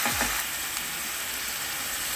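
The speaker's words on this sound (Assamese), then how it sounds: "আমি এইখিনি এতিয়া ভালদৰে 10 মিনিটৰলৈকে ভাজি থাকিব লাগিব হাই ফ্লেমত" Marinated chicken fries over high flame for a local chicken curry in Assamese style, a dense, steady sizzle that holds at one level throughout the brief moment.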